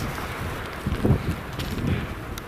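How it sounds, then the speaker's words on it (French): Wind buffeting a microphone on a mountain summit at 2400 metres, a steady, loud rumbling roar with gusty swells and no talk. "je sais pas si vous m'entendez bien avec le vent"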